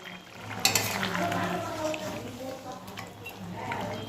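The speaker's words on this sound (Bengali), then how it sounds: "ঝোলটা একদম ফুটে উঠেছে, চলো মাছগুলোকে ঢেলে দিয়ে দিলাম" Fried fish tipped into boiling curry broth in a home kitchen: a brief clatter and splash, then steady bubbling and sizzling close by, with a faint voice in the background.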